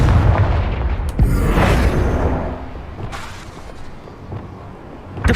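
Fiery Confringo spell blasts go off in the Hogwarts Legacy video game, heavy booming explosions with rumbling tails and a few sharper bursts layered in dense game action, loud and close.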